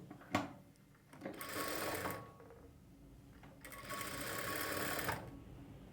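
A sewing machine stitches a plain blouse in two sustained bursts of rapid whirring needle action, separated by a brief pause and preceded by a sharp click, heard close and alone.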